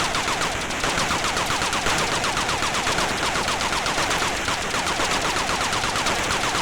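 Rapid, continuous automatic helicopter gunfire from the Atari ST game Thunderblade crackles nonstop over a dense mechanical drone, loud and close, with no voices.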